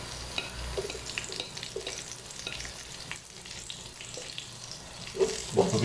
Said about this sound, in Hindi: हरी मिर्च अभी हम इसमें डालेंगे।